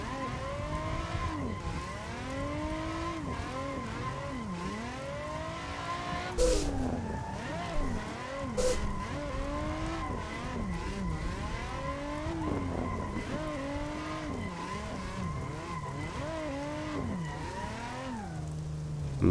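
A Nissan 350Z drift car on a World Drift Tour track, its engine heard from inside rising and falling through repeated revs and shifts, with brief bursts of tire noise over a constant loud drone.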